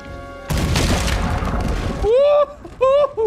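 Cannon blast in Red Dead Redemption 2, a loud broadband boom that rolls on for about a second and a half before giving way to high, whooping vocal calls.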